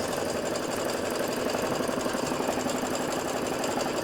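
An embroidery machine stitching the outline of an in-the-hoop key fob design, a fast steady mechanical chatter of needle strokes with a continuous motor hum, close and unbroken with no voices.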